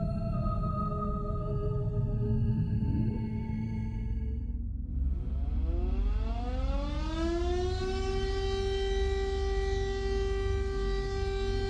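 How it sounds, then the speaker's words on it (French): A French civil defense alarm siren during its monthly test, a long loud wailing tone that dips and then rises steeply into a sustained high howl, continuous throughout. "Tous les premiers mercredis du mois, à midi pile, la sirène hurle."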